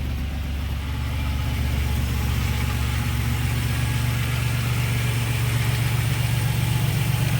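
A turbocharged Buick Grand National engine idles steadily after a cold start, a close, constant low rumble with an even pulse and no voices.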